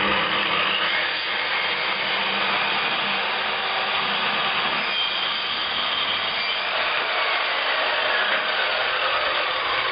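An Interskol DP-190 circular saw with a replacement blade cuts a strip off a wooden board, a loud, steady, close whine and rasp lasting throughout with no voices.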